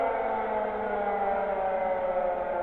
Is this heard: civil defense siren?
yes